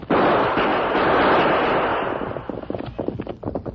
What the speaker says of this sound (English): Use your guns, Tonto. We'll drive them off.